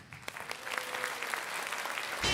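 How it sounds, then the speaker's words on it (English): An audience applauds the winner, Anthony Berryhill, at a Great American Think Off debate event, a steady wash of clapping with a few faint voices mixed in, swelling louder in the final moments. "please give a round of applause to our winner, Anthony Berryhill"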